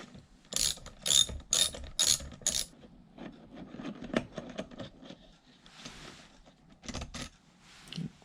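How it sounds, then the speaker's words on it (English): A hand ratchet removes two bolts from an Oster blender during a repair, with several quick bursts of sharp, close clicking, then quieter handling and scraping noises. "Now I'm going to be removing these 2 bolts right here in order to get access to the shaft."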